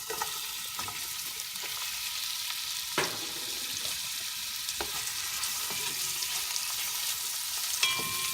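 Onions frying in olive oil for Kapampangan-style oxtail kare kare, a steady close sizzle with occasional stirring clinks and sharper pops, no talking.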